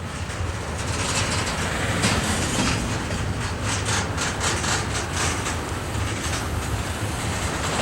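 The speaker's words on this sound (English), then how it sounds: "look at the big CSX Intermodal" A CSX intermodal freight train passes near a rail yard with a continuous loud roar and rhythmic wheel clatter over the rails throughout.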